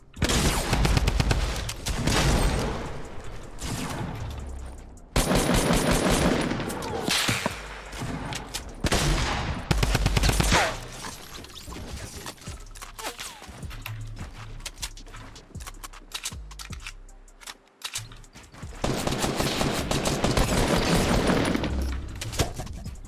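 Gunfire in Fortnite Battle Royale, in a solo-versus-squads match, comes as loud, dense bursts and volleys that recur across the clip, with short quieter gaps between them.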